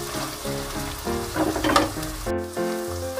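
Finely chopped capsicum (shimla mirch) frying in a pan for a mushroom sabji, a steady hiss and sizzle heard under a background of tonal music, with no talking.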